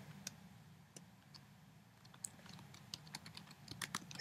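Quiet keystrokes tap out on a computer keyboard in an irregular rhythm, soft individual clicks spread across a few seconds, with a low background hum and no talking.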